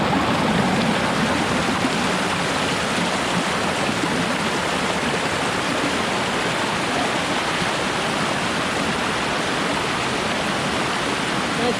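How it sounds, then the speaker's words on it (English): A rippling stream in the Tranquility Gardens at Ocho Rios, Jamaica, flows steadily and close by, a dense, unbroken wash of running water with no voices. "That noise of the rippling"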